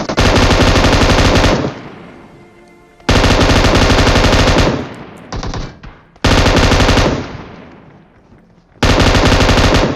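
Rapid automatic gunfire from a high-capacity gun in the Free Fire battle royale game, heard as four loud, sustained bursts separated by short pauses with faint echoing tails.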